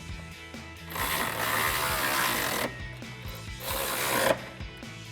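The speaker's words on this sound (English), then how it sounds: "we'll tighten down these bolts here using our 16mm socket" Ratcheting 16mm socket tightening side step bracket bolts on a 2021-2024 Ford Bronco during a RedRock ABS side step install, two sustained bursts of close mechanical clatter separated by a short pause.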